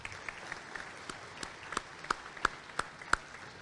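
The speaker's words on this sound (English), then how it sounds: "Big round of applause for Transamerica." Scattered applause from a luncheon audience at a Chamber of Commerce event, thin and sparse, with a few distinct sharp claps standing out over a quiet room.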